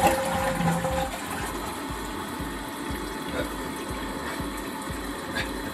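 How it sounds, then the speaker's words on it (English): A Briggs Vacuity 4400 Series pressure-assist toilet flushes with a close, rushing gush of water that settles into a steady, softer flow and hiss. "And I'll give you the glory of flushing it."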